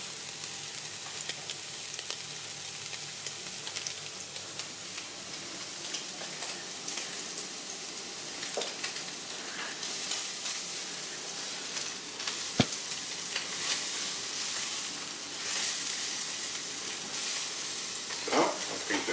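Shrimp sizzle and fry steadily in olive oil with chili, a continuous close crackling hiss with occasional sharper pops throughout.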